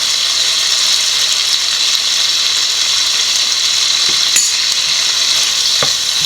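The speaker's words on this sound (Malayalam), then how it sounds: "നമ്മുടെ മൂടിയെ മാറ്റി നോക്കാം കുറച്ച് ടൊമാറ്റോയുടെ സോസ് ഒഴിച്ചു കൊടുക്കാം" Sizzling in a pan as chicken curry fries and tomato sauce is poured in, a steady bright frying hiss throughout with a couple of faint utensil clicks near the end, no talking.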